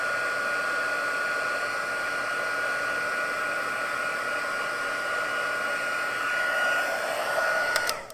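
A handheld heat tool blows a steady, even whooshing hum while melting embossing powder, close and constant, then cuts off abruptly at the end.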